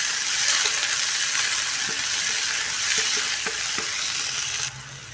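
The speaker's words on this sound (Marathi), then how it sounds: "टोमॅटो बऱ्यापैकी मऊ पडेपर्यंत हा परतत राहूया." Onion and finely chopped tomato sauté in a pan with a steady, close sizzle, broken by light scrapes and taps of stirring.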